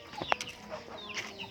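Backyard chickens, an old rooster and a hen among them, cluck and murmur softly at a moderate distance, with a few sharper clucks standing out over a steady farmyard background.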